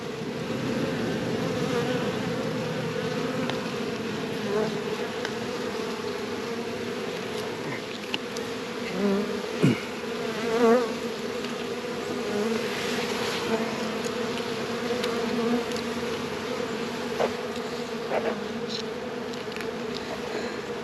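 A steady, dense hum of many honey bees buzzing close by around an open hive, continuous throughout with small rises as individual insects pass near.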